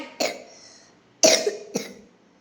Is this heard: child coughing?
yes